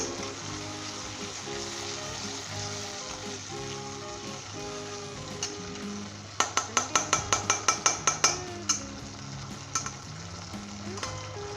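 Vegetable macaroni with three tablespoons of ketchup is stirred in a frying pan, a steady close sizzle running throughout while a spoon scrapes and clinks against the pan in a quick rhythmic burst midway.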